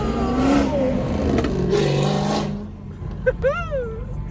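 A loud car nearby on a city street, with a throaty engine roar that swells and fades under someone talking, followed by a brief scrape and a short whistling sound.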